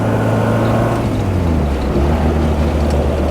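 A 1967 Morris Minor with the 1098 engine and a single SU carburetor runs steadily while driving, a continuous loud drone with wind and road noise and a slight pitch drop partway through.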